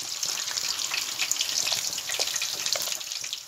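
Food sizzles and crackles steadily in a hot pan with salt and black pepper added, a close, continuous frying hiss with no talking.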